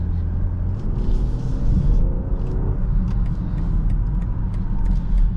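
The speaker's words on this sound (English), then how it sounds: "It's not loud, but you can hear a little bit of the rumble." A 2024 BMW X7 xDrive40i SUV rumbling while driving, with a steady low engine and road drone that stays fairly subdued and continuous, no voices over it.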